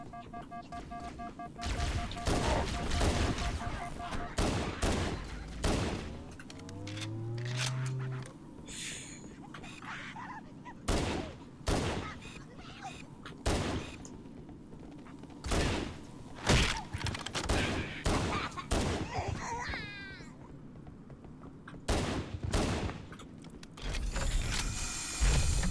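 Pistol fire in Halo: Combat Evolved Anniversary comes as sharp, loud shots spaced irregularly throughout, mixed with mechanical game effects and occasional whooshing sounds.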